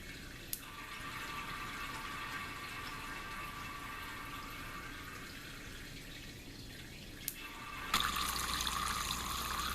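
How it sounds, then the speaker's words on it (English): A thin stream of water from a Kelvin water dropper falls steadily into a bucket, a faint continuous trickle with a few sharp clicks and a louder, broader splash near the end. "the stream of water falling into the bucket spreads itself apart, changing the tone"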